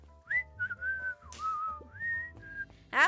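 A whistled melody from the Beacon Pines video game, a series of clear gliding and sustained notes over soft background music, ending with a brighter burst of sound.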